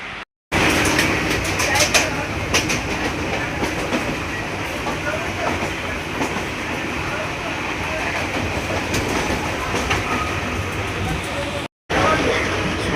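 A train carries a passenger along on a morning journey, its rolling rumble and clickety-clack over the rails steady and close throughout, with brief breaks in the sound near the start and end.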